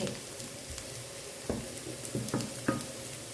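Bacon and onion fry in a pan with a steady broadband sizzle, broken by a few soft knocks and stirring scrapes near the end, close and even in level.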